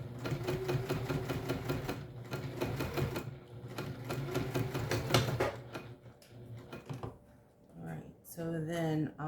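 A home sewing machine stitches a mini backpack with a fast, steady mechanical whir and rattle up close, pausing briefly before a short final run; a voice talks over part of the stitching.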